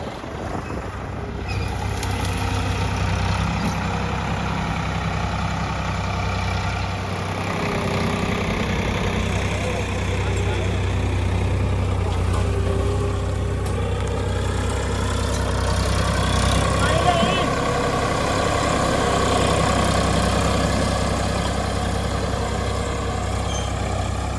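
A tractor pulls a zero drill, sowing sorghum seed in a Punjab farm field, with a continuous, steady low engine rumble close by and no break across the whole stretch.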